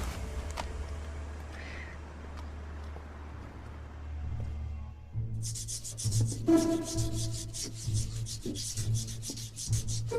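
Pottery is sanded and polished by hand in circular passes, giving soft, continuous rubbing strokes that start quiet and grow more prominent and rhythmic later on.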